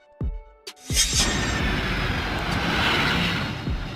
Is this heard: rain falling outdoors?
no